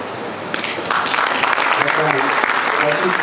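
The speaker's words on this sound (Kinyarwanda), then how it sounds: "nagomba nsabe dukomera amashyi cyane umuryango wa Ramazani" Crowd applause at a dowry ceremony swells into steady clapping over a few seconds while a speaker continues talking over a microphone.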